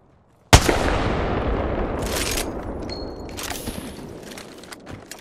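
A sharp, loud shot opens a burst of gunfire in the Apex Legends video game, followed by a long decaying rumble, a few further scattered shots and impacts, and a brief tonal beep midway.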